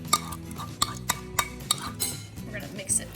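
Softened cream cheese is stirred into a pressure cooker pot, a utensil scraping and clinking against the metal in irregular taps and knocks, close and moderately loud.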